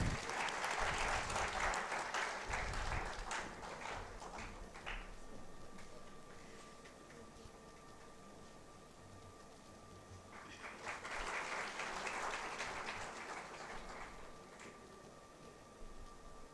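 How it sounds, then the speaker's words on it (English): An audience at an MBA induction ceremony applauds in two waves, with rapid clapping that swells, eases off, then rises again. The sound is fairly faint and distant, heard against a low steady hum. "A huge round of applause, please."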